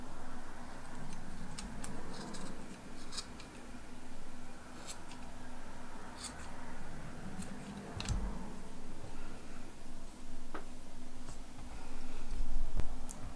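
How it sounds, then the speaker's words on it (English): Scissors snipping excess yarn from a piece made on a knitting machine, giving a series of small, sharp, close clicks and ticks over a faint steady hum, quiet and irregular. "So I will now cut this excess because it won't be okay to push it there."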